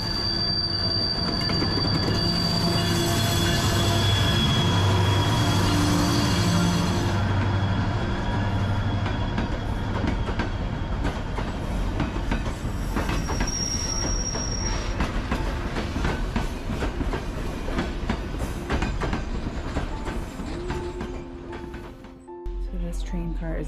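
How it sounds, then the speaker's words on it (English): A train rolls past close by on the Skagway railroad in Alaska, a loud sustained rumble with wheel clatter and squealing flanges that fades toward the end, heard from inside a neighbouring rail car. "we're gonna have a train pass us"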